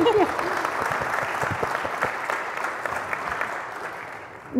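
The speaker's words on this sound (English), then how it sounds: "Applause, applause." A congregation claps together inside a church during a Sunday Lutheran worship service, a steady, fairly close wash of applause that holds for several seconds and then thins slightly toward the end.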